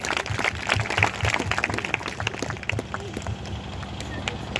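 A church congregation at a Punjab prayer meeting claps hands together, a steady busy patter of many palms at moderate distance, continuing for several seconds with room ambience and no clear speech.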